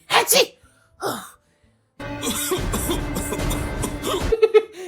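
A couple of sharp sneeze-like bursts, then a dense stretch of loud mixed noise, likely music or clatter, with more bursts at the end.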